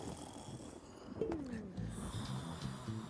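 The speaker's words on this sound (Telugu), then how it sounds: "గురక వినపడుతుంది" A drawn-out snore with a rattling, nasal quality, rising then settling into rough breathing, against a murky background.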